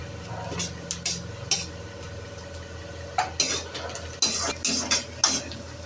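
Green chillies go into a pan while making chicken noodles, with sharp metal clinks and scraping of a spoon against the cookware over a faint steady sizzle.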